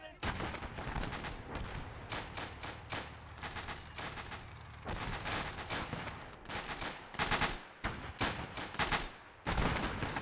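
Mortar blasts and rapid gunfire from a World War II battle in the Gates of Hell strategy game, with dense overlapping bursts of shots and explosions running throughout, some sharp loud volleys standing out near the end.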